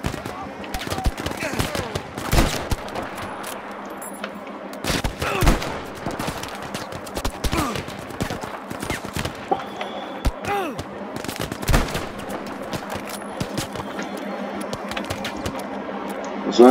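Battlefield V combat: sharp bursts of gunfire and booming blasts in irregular clusters, with a voice speaking over the action.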